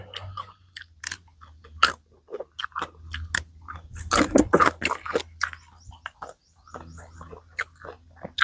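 Someone nearby chews crunchy pea eggplants with a shrimp chili dip, making repeated close, crisp bites and wet crunches in irregular bursts that are loudest in the middle, over a low background hum.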